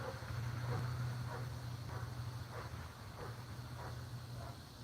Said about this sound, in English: Do y'all hear that dog just non-stop?